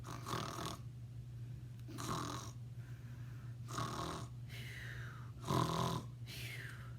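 A voice imitates a sheep snoring, with slow, drawn-out rasping breaths repeated about five times with brief pauses, over a steady low hum.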